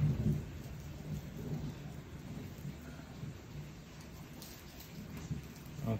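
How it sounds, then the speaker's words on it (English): Soft, steady rain heard from indoors, a low continuous patter with a faint distant rumble underneath. "It's raining outside."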